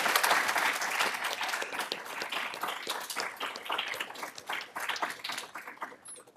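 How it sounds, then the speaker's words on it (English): An audience applauds research associates at an academic event on ethical scholarship. The clapping is steady, dense and moderately loud for about six seconds, tapering a little toward the end, with no voices over it. "So can we give another round of applause to all the research associates?"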